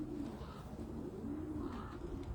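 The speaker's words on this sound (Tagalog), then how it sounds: "Paano maturuan ang kalapati bumalik sa inyo, Kuya Joseph?" Racing pigeons coo in a steady, continuous murmur of low, rolling calls from a pigeon loft. The calls sound close and moderately loud, with no talking over them.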